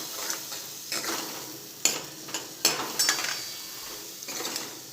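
Rajma masala being stirred in hot oil in a pan, with a spoon scraping and clinking against the metal in irregular strokes over a soft, steady sizzle, close and alone.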